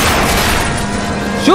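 Booming gunfire rings out during an L.A. Noire police car chase, sharp reports over steady engine and road rumble, one louder burst at the end.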